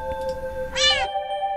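A cat gives a single clear, rising meow lasting about a third of a second. It sits close and loud over a steady tonal hum.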